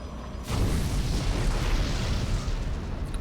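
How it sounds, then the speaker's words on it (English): Nuclear strikes detonate in a StarCraft 2 match, a sudden deep rumbling blast that kicks in after a brief quiet moment and then keeps roaring as a sustained, loud, low explosion until the end. "Nukes are going to be on the way here towards the forward base"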